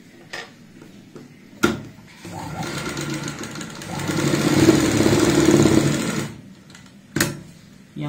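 A sewing machine stitches a capri pocket. Its motor whirs up into a loud sustained run of stitching in the middle, framed by sharp mechanical clicks before and after.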